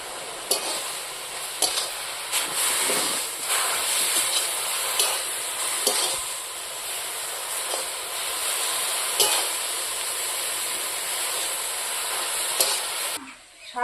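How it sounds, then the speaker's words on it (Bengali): Spinach greens fry in a wok with extra oil, a continuous bright sizzle punctuated by regular scraping strokes of a spatula, close and fairly loud, stopping abruptly at the end. "ভাজা ভাজা করে নামিয়ে নেব।"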